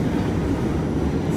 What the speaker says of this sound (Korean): 저는 지하철을 타고 숙소로 돌아가요.